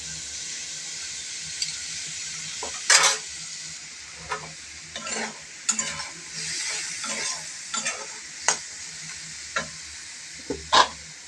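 Boiled chicken and sweet corn sizzle in butter while a spoon scrapes and stirs through them in repeated close strokes, with a few sharper clicks against the pan over a steady frying hiss.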